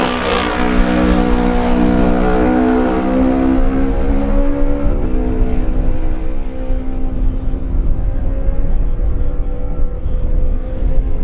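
A Kawasaki lightweight racing motorcycle screams past at speed on a road race course, loud and close, its engine pitch sliding steadily downward as it moves away, with no talk.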